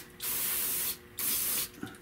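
Degreaser sprayed onto the engine area of a 1973 Buick Electra Limited: two close, loud bursts of hissing spray, each lasting under a second, separated by a short pause.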